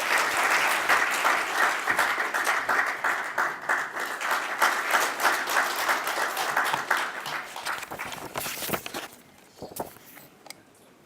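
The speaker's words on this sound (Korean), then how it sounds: "큰 박수로 맞아주십시오." An audience at a Korean social-value legislation forum applauds steadily for several seconds, then the clapping thins out and fades to a few scattered claps.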